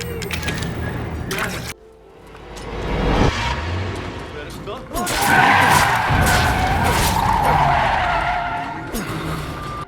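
Car driving and tires skidding in the Resident Evil 7 survival horror game, with engine revving and repeated loud tire squeals, and louder sustained skidding in the second half over background game sounds.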